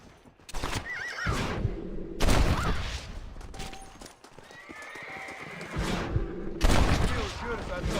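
In a cowboy video game, a horse whinnies loudly amid clip-clopping hooves, with bursts of gunfire, bright synthetic effects and a voice speaking at points.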